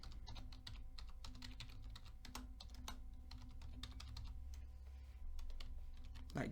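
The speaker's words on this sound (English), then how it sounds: "So let's type something in it." Someone types on a computer keyboard, quiet rapid clicks in irregular bursts with a faint steady hum behind, close and soft, and no one speaks.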